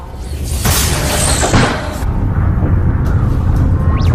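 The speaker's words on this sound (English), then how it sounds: "Some sort of explosion in the airlock." An explosion in a spaceship airlock in a science fiction film, a loud booming blast with a whooshing, shattering burst followed by a sustained rumbling roar and scattered debris-like clatter.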